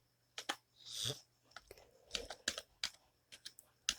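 Fingers typing a name on a computer keyboard, quiet close clicks in short irregular bursts with brief pauses between, no talking.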